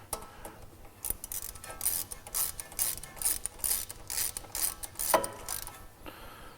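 Quick repeated ratcheting clicks from a ratchet wrench with a 10mm socket tightening a bolt on a Porsche 987 Cayman coilover install, a steady series of close, crisp pawl strokes with no voices.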